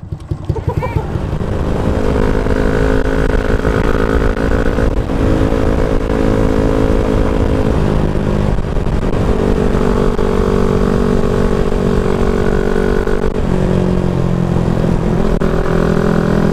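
Motorcycle engine running nearby with a steady loud drone and sustained rumble, the pitch shifting slightly as it is throttled up and eased off at a few points.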